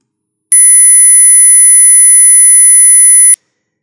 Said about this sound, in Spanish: un sonido agudo podrían ser 10 kHz,